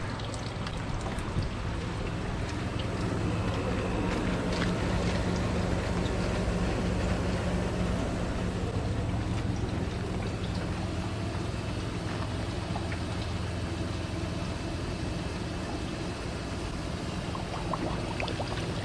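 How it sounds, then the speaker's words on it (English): Water rushes steadily through the cooling system of a 1998 Jeep Cherokee XJ during a flush with a hose attached, a continuous broadband pour and splash that stays constant and fairly loud, with no talking. "We got the flushing hose hooked up again, so we're going to go ahead and flush this a couple of more times"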